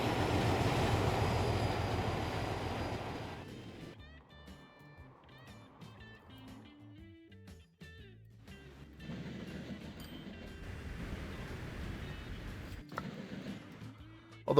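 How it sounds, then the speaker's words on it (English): Fast diesel Northern Express train passing in Transport Fever 2, a loud rumbling rush that fades out, then quieter rail clatter and tonal game sounds, with a second swell of train noise near the end. "here goes a fast-running Northern Express now"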